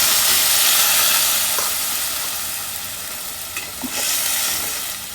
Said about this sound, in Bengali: আমি এই টমেটোগুলো দিয়ে দিব।